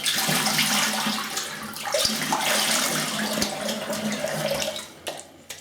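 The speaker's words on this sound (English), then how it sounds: "let's have a final rinse" Running water splashes steadily over a face at a sink during a final rinse after a wet shave with a vintage Schick razor and artisan soap, a continuous close hiss that fades near the end.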